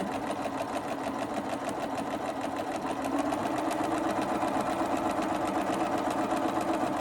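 A sewing machine stitches a fabric face mask in a steady, loud, continuous mechanical whir, with the rapid needle rhythm holding even throughout and no one talking.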